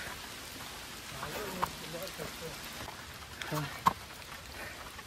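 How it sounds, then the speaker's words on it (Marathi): Heavy rain pours steadily on a hill fort trail in the Sahyadri mountains with a dense hiss, with a few sharp drops and faint voices mixed in. "हे बघा पाऊस जोरात आला एकदम"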